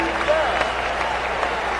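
A big crowd applauds at the end of a boxing round in an arena, a steady dense roar of clapping with an announcer talking over it.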